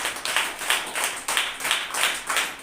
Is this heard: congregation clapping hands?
yes